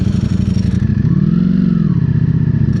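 A Ducati Streetfighter V4 SP, a super naked bike of over 200 brake horsepower, revs loudly and close, its engine note climbing briefly before settling back into a rough, steady idle.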